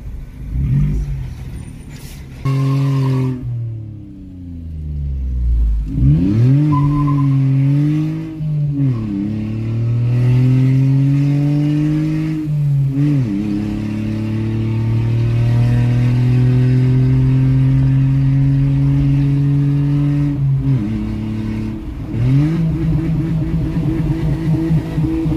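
A Renault Sandero GT Line 1.0 three-cylinder fitted with an exhaust diffuser revs repeatedly, its engine note rising and falling in several strong sweeps, then holding a raised drone, loud and close.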